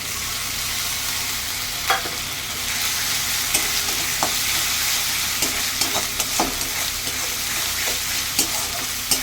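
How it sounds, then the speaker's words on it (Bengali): Ginger garlic paste frying with onions in a pan, giving a continuous dense sizzle with scattered sharp ticks of stirring throughout, close and fairly loud. "এবার আমি আদা রসুনের 1 চামচি পেস্ট দিচ্ছি।"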